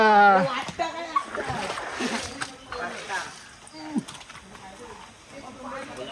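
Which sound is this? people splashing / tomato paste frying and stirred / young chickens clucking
people splashing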